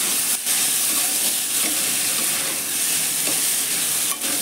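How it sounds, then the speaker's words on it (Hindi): Chowmein noodles being stirred and tossed while frying in a hot pan, a continuous dense sizzle with scraping and stirring, steady and close, no speech. "अब इसे हम चलाएंगे अच्छी तरह से, जिससे हमारा चाउमीन"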